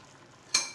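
Peas dal being stirred after chopped coriander leaves and garam masala powder go in: a quiet low simmer, then one short, brighter scrape and sizzle of the spoon near the end.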